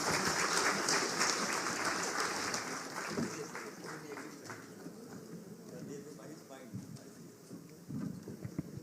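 Loud crowd applause at a Jharkhand political rally with the Chief Minister, strongest at the start and gradually thinning into scattered clapping, with a voice speaking over it.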